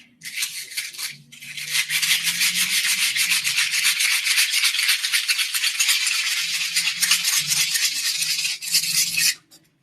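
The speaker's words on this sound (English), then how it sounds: "Try not to stab myself while sanding this as well" Hand sanding of wood with sandpaper gives a steady, loud, close rasping scrub of rapid back-and-forth strokes that runs almost unbroken for nearly ten seconds.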